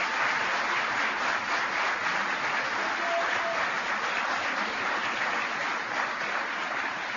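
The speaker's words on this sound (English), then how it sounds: "Give them a round of applause, would you please?" A political rally crowd in Detroit applauding during a Mike Pence speech, dense sustained clapping that holds steady at full strength for several seconds, large and reverberant, with no voice over it.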